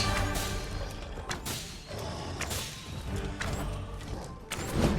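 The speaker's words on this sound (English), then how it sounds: "I like the sound that it makes if you hit the headshot" Sharp impact thuds and crashes from headshot hits in the video game Dragon's Dogma 2, several whip-like strikes in irregular rhythm over dense game clatter and background action, loud and close.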